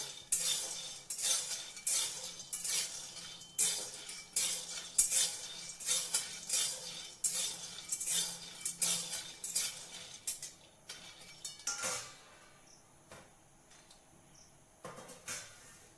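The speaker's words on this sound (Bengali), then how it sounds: "কড়াই গরম হয়ে গেছে দিয়ে দেবো বাদামগুলো বাদামগুলো খোলাতে ভেজে নেবো মানে শুকনো কড়াইতে ভেজে নেবো" Peanuts dry-roasting in a hot kadai rattle and scrape in a brisk, regular rhythm of clinking strokes for about eleven seconds, then the clatter thins to a quieter, sparse tail.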